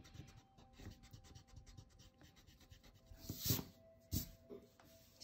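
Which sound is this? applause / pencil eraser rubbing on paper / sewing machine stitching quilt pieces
pencil eraser rubbing on paper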